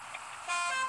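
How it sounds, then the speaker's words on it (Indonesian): A bus horn sounds in the Bus Simulator Indonesia driving game, a single steady honk that starts midway and holds loud to the end over a hissy engine background. "Nah, kalau ada berlawanan bis, kita klakson."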